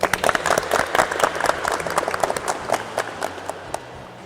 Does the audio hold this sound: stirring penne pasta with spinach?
no